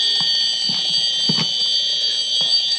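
An alarm under test sounds a steady high-pitched tone that does not beep continuously, holding loud and close for the whole stretch with faint knocks beneath.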